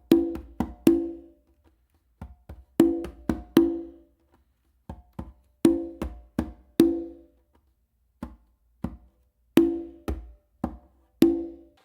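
Conga funk groove played alone, repeating a pattern of two soft ghost taps leading into ringing open tones and deep bass-finger strokes, close and clear with short pauses between phrases.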